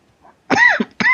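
A person coughs twice in quick succession, close and loud, each a short harsh burst with a brief pause between.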